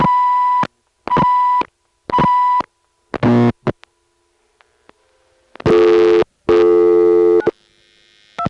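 Loud tones on a telephone line in a senderized step-by-step exchange in Washingtonville, New York, in the 914 area after dialing 928: three even beeps, then a harsher burst and two long loud buzzing tones, with faint line noise between.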